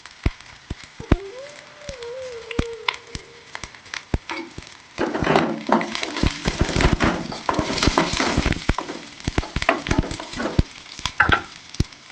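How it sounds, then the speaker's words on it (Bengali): Raw onions and green chilies frying in hot oil: a soft sizzle with scattered clicks early on, swelling into a dense, crackling fry from about five seconds, steady and close, with no talking. "তেল গরম হয়ে গেছে পেঁয়াজ লঙ্কাটা আমি ভেজে নিচ্ছি"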